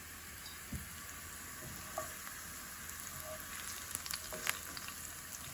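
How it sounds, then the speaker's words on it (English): Sliced garlic and red chili flakes fry gently in olive oil for pasta puttanesca, giving a soft, steady sizzle with occasional small pops and stirring taps, faint and with no one speaking. "I'm gonna go ahead and add my red chili flakes. In they go."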